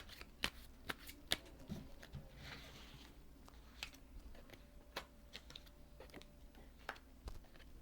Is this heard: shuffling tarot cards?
yes